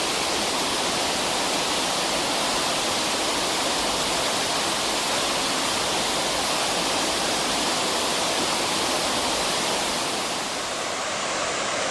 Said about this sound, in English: A bit quieter now, but still a lot of water going through.